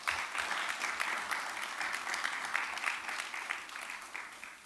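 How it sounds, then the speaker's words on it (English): Attendees at a youth council debate in Anguilla give a round of applause, a steady, fairly soft patter of many hands that holds evenly before gradually thinning toward the end. "You can give them a round of applause, please."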